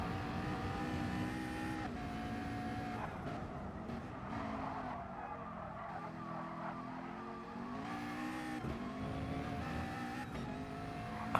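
On-board race car engine at Brands Hatch in a sim racing video game, a steady loud drone that climbs and drops in pitch through gear changes and corners, with brief tyre squeal and no voices.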